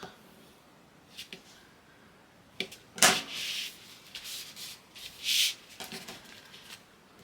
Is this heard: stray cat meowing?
no